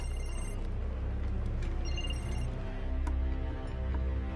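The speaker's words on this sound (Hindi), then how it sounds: "फोन आ रहा है तुम्हारा।" A phone rings in a scene from a Hindi film, its trilling bell heard in short repeated bursts over a steady background bed of music and room noise.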